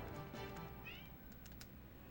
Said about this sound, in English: As you can hear the meows.